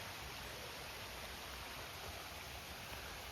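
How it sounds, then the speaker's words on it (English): Water pouring down at a canal lock on the full Welford Arm, a constant broadband rushing roar that stays even and unbroken throughout, with no voices. "Water flowing down there."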